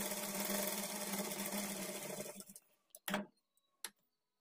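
A sewing machine runs steadily, stitching a folded dart on a blouse at a quarter-inch margin. Its even whirring hum stops after about two and a half seconds, followed by a few sharp clicks and handling taps.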